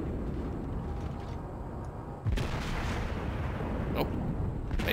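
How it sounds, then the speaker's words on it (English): The battleship Fuso fires a main-gun salvo in World of Warships, a sudden heavy boom midway that swells into a sustained roar over constant loud engine and sea rumble. "Shoot another salvo and hope it's not right into the island."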